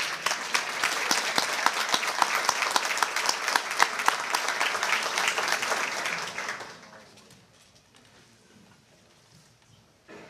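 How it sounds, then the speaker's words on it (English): Chamber of commerce lunch audience giving a big round of applause; dense, loud clapping from a crowd in a room for several seconds, then fading into scattered claps and quiet room noise. "Let's give them a big round of applause."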